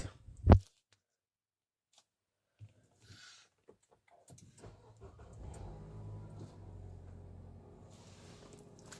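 A Nissan X-Trail T31 starts up after a loud click and a few faint taps, settling into a low, steady engine idle heard close and quiet, no voices.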